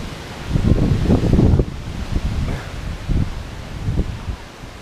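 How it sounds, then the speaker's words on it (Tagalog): Wind buffeting a microphone in rough, low gusts, loudest at the start and then fading into a steadier rush. "Galing yung hangin."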